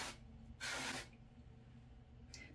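Style Edit root touch-up spray hissing onto hair in two short bursts, a longer half-second spray followed by a brief faint puff, close by in a quiet room.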